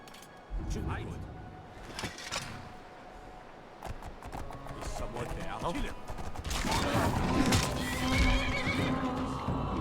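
In the video game Forsaken, a horse whinnies and its hooves clip-clop on the ground, mixed with other game sounds and growing busier and louder toward the end, while a voice speaks.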